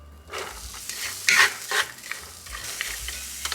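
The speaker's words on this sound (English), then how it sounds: "the first thing I'm gonna do is cook up some mushrooms and onions in my skillet" Mushrooms and onions cooking in a little oil in a cast iron skillet, a soft sizzle broken by a few louder bursts of hissing and scraping as the pan is stirred.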